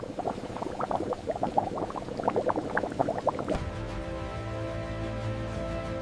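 Potatoes boil in large industrial cooking tanks, with busy bubbling and gurgling for about three and a half seconds before it gives way to a steadier, lower churning rumble of liquid.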